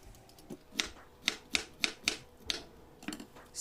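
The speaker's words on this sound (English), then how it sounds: "Peel the parval little bit because the skin is little rough." Rough-skinned parval, or pointed gourd, being peeled in a kitchen, heard as a steady series of about a dozen crisp scraping strokes close to the microphone, with no voices.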